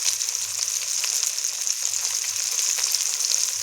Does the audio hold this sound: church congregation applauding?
no